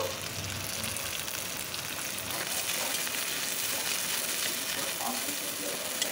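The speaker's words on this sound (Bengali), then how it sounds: "তারপর দিয়ে দেবো আমি ছোট ছোট চিংড়িগুলো, চিংড়িটা আমি একটু ভাজা ভাজা করে নেব।" Small shrimp frying in hot oil with crushed garlic and onion, a dense steady sizzle and crackle filling the whole stretch at close range, with faint stirring underneath.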